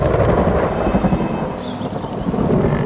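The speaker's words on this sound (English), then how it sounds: "The arrival of rain changes everything." A continuous rumble of thunder rolls beneath steady rain on the African savanna, a dense wash of sound with no voices.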